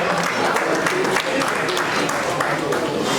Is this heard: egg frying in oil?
no